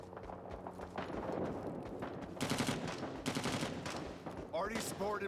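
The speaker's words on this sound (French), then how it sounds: "il y a un tir d'artillerie qui arrive" Incoming artillery fire in Rising Storm 2: Vietnam, a loud rumbling barrage of overlapping blasts and rapid gunfire that swells midway and continues to the end, with distant battle noise around it.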